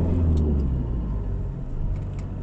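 A Toyota Corolla drives along a road in Sofia, Bulgaria, heard from inside as a steady, loud low engine and road rumble with no talk.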